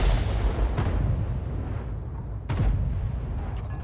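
Distant booms from artillery rounds firing and landing in World of Tanks, where a Bat.-Châtillon 155 55 self-propelled gun is in play, roll over a rumbling battlefield background with a few sharper cracks spaced seconds apart.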